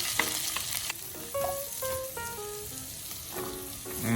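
Onions frying in butter in a pan still holding the earlier cooked sausage, for a herb stuffing: a steady broadband sizzle runs throughout with light stirring, mixed with background music tones and no talking.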